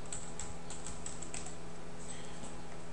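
Quick, light clicking of a computer keyboard as a search term is typed, a run of close, crisp keystrokes at a steady pace with no talk.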